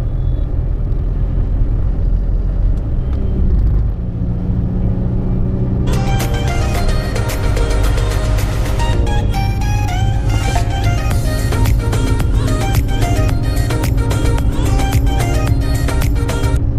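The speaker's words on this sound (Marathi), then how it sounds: "तर आपल्या टाटा नॅनोने पण छान असा वेग पकडलेला आहे" A Tata Nano driving at speed on a smooth internal road, heard as a loud, steady low engine and road rumble, with music playing over it from about a third of the way in.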